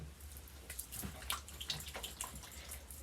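Water runs from a tap while hair product is worked into the hands, a soft, steady splashing trickle with faint clicks and drips, close by and without talk.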